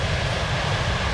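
A simulated Boeing 757-200 climbing after takeoff in a flight simulator game, a steady dense jet engine roar with no talk.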